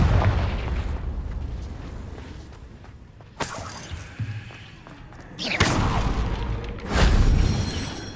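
Spell blasts from the Confringo fire spell in Hogwarts Legacy, several sharp booming explosions with crackling bursts spread across the moment over ambient game background.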